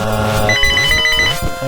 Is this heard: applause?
no